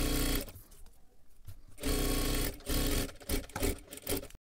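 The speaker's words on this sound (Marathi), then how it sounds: "एकदम कडेकडेला आपल्याला दापटीप टाकून घ्यायची आहे" A sewing machine stitches lining fabric along the edge of a princess blouse, running in close, loud whirring bursts separated by brief pauses.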